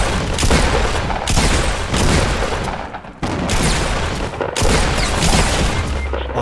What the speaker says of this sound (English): Throw grenades in.